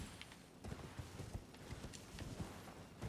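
Horse hooves clip-clopping in Elden Ring, the mount's steady footfalls tapping out a quick rhythm at moderate volume over low game ambience.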